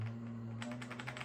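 Rapid keystrokes clatter on a vintage IBM PC keyboard, quiet and close, over a steady low electrical hum.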